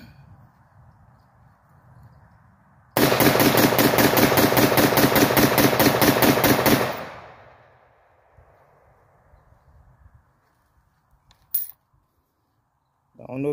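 An AR-15 rifle with a shell catcher attached firing a rapid string of about 20 rounds, a loud close burst of evenly spaced shots lasting about four seconds, then near quiet with a few small clinks.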